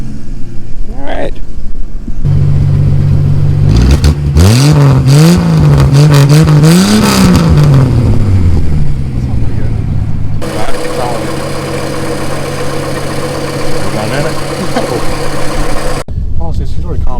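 A 1963 Ford Falcon Futura hardtop, running for the first time in 18 years, cranks over and catches, then revs up and down loudly several times before settling into a steady idle; voices are heard over the engine.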